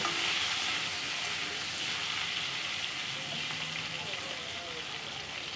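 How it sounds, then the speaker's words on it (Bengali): Cut potatoes fry in a pan with oil while a fish curry is being cooked, giving off a steady, close hissing sizzle that runs unbroken through the clip and slowly fades a little. "এবার আলুগুলোকেও কিন্তু আমি হালকা হাতে একটু নেড়ে নিচ্ছি।"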